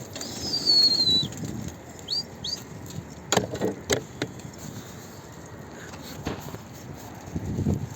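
Quick bursts of pigeon wings flapping, a few sharp flutters amid outdoor background noise, with faint chirps.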